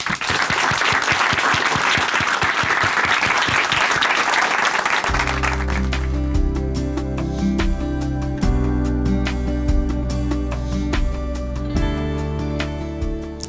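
Dense, steady applause from an audience welcoming a speaker at a church testimony program fills the first five seconds, then a musical accompaniment takes over and the clapping fades beneath it.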